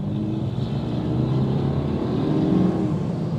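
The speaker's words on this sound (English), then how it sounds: "all that sound that you did hear from the engine" BMW 430i Gran Coupe, 2025, with the B48 engine in sport mode, gives a steady, loud engine drone with a low hum that rises slightly as it pulls, heard alone without talk.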